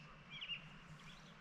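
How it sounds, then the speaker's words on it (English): A bird chirps faintly in the distance at a dispersed campsite near Rock Creek, a few brief high calls over quiet evening ambience. "Get a bird chirping off in that direction."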